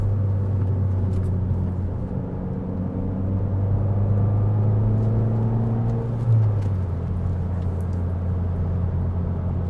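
Car driving downhill through corners after a timing belt service, a steady close engine hum and road rumble with a rising and falling drone, no voices.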